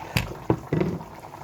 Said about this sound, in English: I'm going to be adding the washed rice in